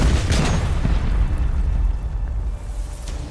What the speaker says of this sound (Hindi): तभी एक जोरदार धमाका हुआ।